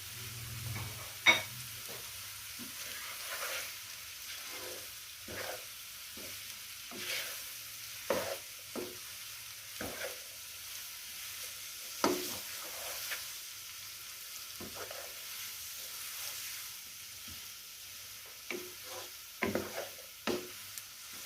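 Vegetables and the white parts of spring onion stir-frying for restaurant-style Chinese fried rice, a soft low sizzle broken by repeated scrapes and clacks of a spatula against the pan, with no speech.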